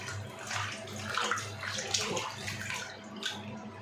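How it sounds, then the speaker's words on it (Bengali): Fish are washed in water by hand, giving continuous splashing and swishing close by with soft gurgles, moderately quiet and steady. "কী কী মাছ এনেছে না এনেছে সব তোমাদের একবারে ধুয়ে নিই"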